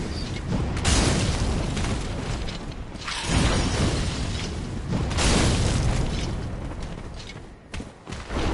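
Heavy, rumbling explosions in a PS4 video game boom one after another, loud and dense with low-end roar, with brief dips between blasts.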